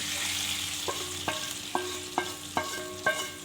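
A spoon stirs masala into chicken in a pan, with a soft steady sizzle underneath and about six distinct clinks or scrapes spaced roughly half a second apart, close and moderately loud.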